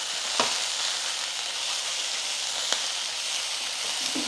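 Chopped fenugreek leaves fry in oil with a steady, dense sizzle and faint crackles, accompanied by a few sharp stirring clicks against the pan.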